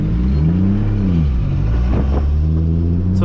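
Toyota Supra MKIV engine pulling hard under acceleration while driving, a loud close rumble with rising and falling revs as it climbs through the gears, dipping once between pulls.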